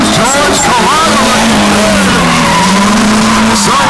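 A drift car, SoCal Sliders Godspeed sponsored, skids in a loud competition run, tires squealing in long wavering screeches over a revving engine while a commentator talks over it.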